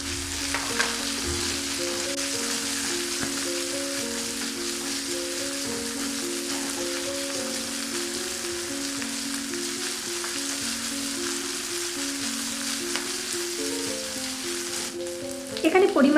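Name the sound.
chopped onion, garlic and chilli frying in oil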